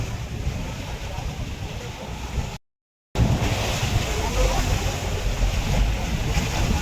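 Sea waves washing near the shore heard from a boat, a constant broad rush of water and wind noise with a brief dropout partway, a motor faintly underneath.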